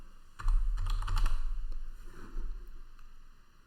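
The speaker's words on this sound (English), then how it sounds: "Now let me type in and then we'll look at the console." Quick bursts of typing on a computer keyboard, a short run of clicking keys with a brief pause, close and moderately loud over a faint steady background hum.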